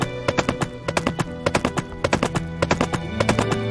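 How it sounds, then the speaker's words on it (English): Horse running in the farming video game Pumpkin Days, rapid rhythmic hoofbeats, loud and close, pounding steadily alongside a light musical backing. "Let's pocket our shovel and take our horse for a run."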